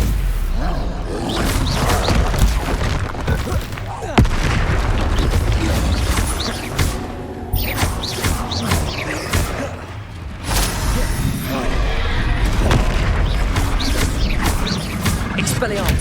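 Rapid spell combat in Hogwarts Legacy on PS5, with a Stupefy spell cast among loud magical whooshes, booms and crashing impacts, dense and continuous, overlaid by a character shouting spell names.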